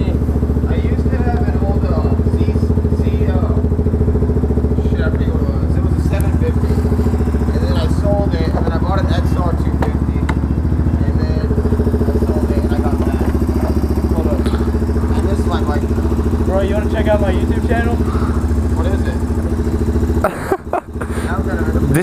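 Yamaha FZ07 motorcycle engine running steadily nearby, a continuous mid-pitched idle drone with some clatter, while people talk over it; the sound briefly drops out near the end.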